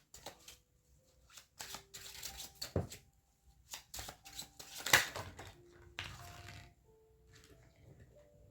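Cards from a Rider Waite tarot deck being shuffled and drawn close up, with soft riffling, flicking and tapping in uneven bursts that include a few sharper snaps, and faint tonal background sounds between.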